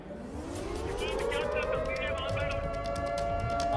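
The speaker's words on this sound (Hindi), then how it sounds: "अभी लगातार यहां पर हमें सायरन्स की आवाज सुनाई दे रही है।" An air raid siren wails in Israel, its tone rising steadily and then holding a high, drawn-out pitch over a constant rumble of background noise.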